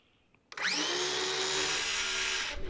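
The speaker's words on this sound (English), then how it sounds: "Drilling holes through this metal trailer." Power drill boring a hole through a metal trailer: after a quiet start, the motor spins up with a sharp onset into a loud, steady high whine, then cuts off near the end.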